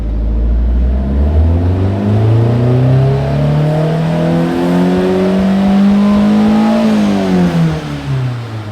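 On a dyno under low load, a car engine climbs steadily through the revs for several seconds and then drops back, a loud, close, continuous whirring drone with no voices.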